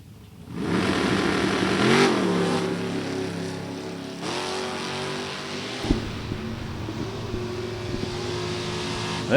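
A 1969 Oldsmobile Cutlass drag car with a 496 Bowtie engine roars loudly down the strip, a sustained high-power engine note with rising pitch sweeps and a brief dip near the middle, continuous and close throughout.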